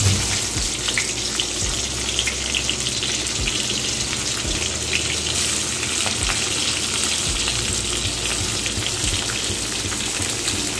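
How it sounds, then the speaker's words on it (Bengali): Crushed cloves, cardamom and onion sizzle steadily in hot oil as a tempering for a jackfruit chicken curry, a close, continuous frying hiss with occasional pops and no voices. "আমি ফোড়নটা দিয়ে দিচ্ছি একটু লবঙ্গ আর এলাচ আমি থেতো করে দিয়েছি, আর দিচ্ছি পেঁয়াজ ফোড়নটা।"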